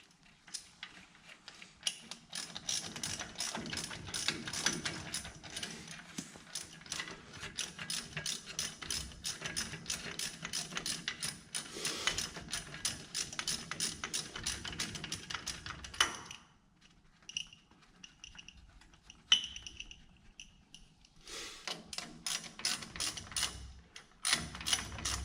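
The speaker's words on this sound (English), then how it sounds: "these are going to get torqued to 75 foot-pounds" A ratchet wrench clicks rapidly and steadily while torquing hub bolts into a Jeep TJ Dana 44 spindle, a long run of fast close ratcheting, then sparser clicks and clunks after a pause, no talking.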